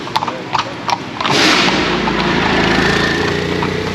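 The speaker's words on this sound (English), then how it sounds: "We have a chariot passing by, two cool brown horses." A horse-drawn carriage pulled by two brown horses passes by a street in Sintra, Portugal, with a few hoof clops followed by a loud, sustained rumble of wheels rolling by close.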